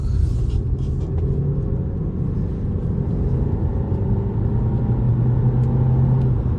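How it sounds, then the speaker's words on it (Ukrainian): Petrol Volkswagen Tiguan Allspace on a test drive, heard as a steady low engine and road rumble from inside the cabin, continuous and fairly loud throughout with no talking. "Зараз спробуємо тест-драйв маленький зробити"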